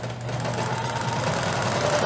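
A sewing machine runs steadily, stitching underwear fabric for a Butterick 6031 pattern, with a continuous close mechanical whir and no pauses.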